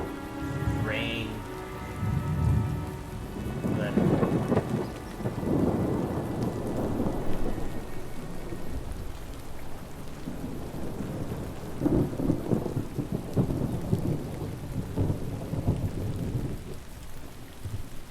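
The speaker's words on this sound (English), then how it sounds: "Rain." Steady rain pours down with deep rolling thunder rumbling through in Fallout: New Vegas, a dense continuous storm bed with heavier swells, no voices over it.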